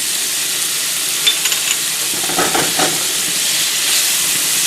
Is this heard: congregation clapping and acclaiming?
no